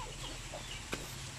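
Free-range chickens, some sick with colds, clucking softly over a steady hum, with a single brief sharper sound near the middle.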